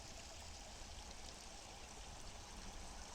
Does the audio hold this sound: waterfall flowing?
yes